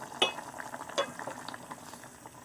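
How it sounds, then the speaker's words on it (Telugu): Bottle gourd and sago payasam simmering in a pot while a spoon stirs it slowly, a couple of light scrapes over a soft bubbling hiss, close and quiet. "సగ్గుబియ్యంలో కలిసి ఉడికేలాగా నెమ్మదిగా కలుపుకోవాలి"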